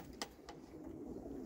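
Homing pigeons in a small loft coo softly, a faint, low murmur with a couple of brief flutters, and no voices.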